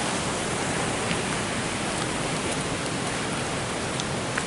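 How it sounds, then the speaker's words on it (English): Waterfalls in Ricketts Glen State Park pour with a steady, unbroken rushing roar, close and loud, without pauses. "Two waterfalls."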